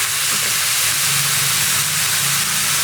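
Damp washed chickpea leaves dropped into a hot pan with garlic and oil, giving a loud, continuous close-up sizzle and hiss that holds steady throughout.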